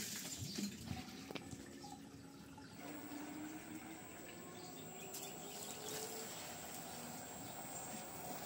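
Water flows from a newly installed 2hp solar pump at a site in Sta Rosa, Nueva Ecija, making a steady, faint rushing stream. Brief knocks come near the start, and a faint bird can be heard in the background.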